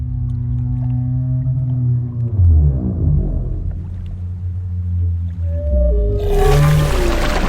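Deep, drawn-out whale calls from the Primal animated series, low moaning tones rising and falling in a long sequence, ending in a brighter burst of watery noise.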